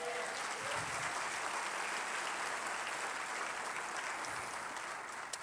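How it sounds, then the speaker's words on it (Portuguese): A church congregation applauds during a sermon, a soft, continuous wash of clapping heard from a distance at low level. "dá uma salva de palmas a Jesus"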